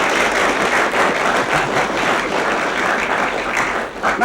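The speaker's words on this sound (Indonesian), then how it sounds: "Tepuk tangan adik-adik." Children clap and cheer together in sustained, loud applause that fills the whole stretch without pause, a dense wash of many small hands fading slightly at the end.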